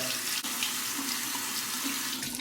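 Steady tap water runs continuously into a sink as a shaving razor is rinsed, a close, even hiss with no talking.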